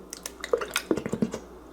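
A whisked broth mixture is poured into a crockpot, making a short run of close wet drips and splashy gurgles over under two seconds, with no talk.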